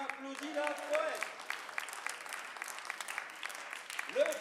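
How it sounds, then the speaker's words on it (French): Audience applause for a poet at a slam poetry competition, a steady stream of clapping with voices speaking over it at the start and near the end. "On applaudit la poète"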